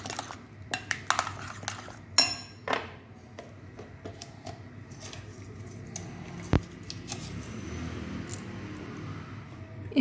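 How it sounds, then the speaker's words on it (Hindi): A large spoon stirs cream and milk in a bowl, clinking and scraping against the sides in irregular taps, close and fairly quiet with sharper knocks now and then. "अब हम इसको अच्छी तरह मिक्स कर रहे हैं।"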